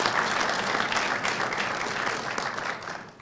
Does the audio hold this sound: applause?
yes